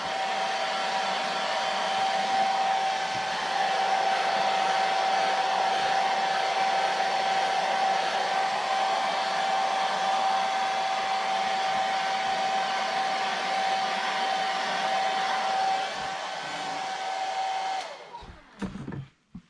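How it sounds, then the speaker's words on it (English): A hair dryer drying paint on an airbrushed jerkbait fishing lure blows loudly and steadily for a long stretch with a constant whine, then shuts off, followed by a few soft clunks. "I use a hair dryer in between so I can speed up my painting"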